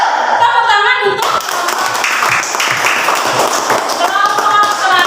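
Classroom applause for the last student group after their answer, a burst of clapping hands that starts after a brief voice and continues, with some voices mixed in.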